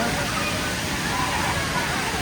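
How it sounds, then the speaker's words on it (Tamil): Water rushes loudly and continuously at Hogenakkal waterfall, its flow swollen by Karnataka rains where people bathe, a dense close roar with voices likely mixed in beneath it. "தண்ணி வரத்தும் அழகாக இருக்குது"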